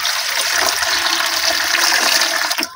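Stored tap water left standing for four days, poured steadily into a guppy fish tank, making a continuous loud, close rush of splashing water that cuts off abruptly at the end.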